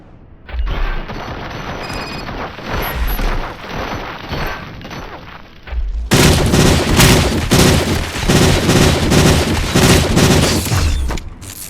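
Gunfire from RoboCop: Rogue City, starting as scattered booming shots then turning at about six seconds into a loud, dense, sustained barrage of rapid repeated blasts that runs almost to the end.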